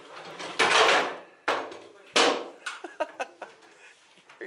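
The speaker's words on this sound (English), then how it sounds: "Open the drawers." Drawers in a cockroach- and bedbug-infested home being pulled open, a few loud scraping slides followed by a string of sharp knocks and rattles close by, with no one speaking.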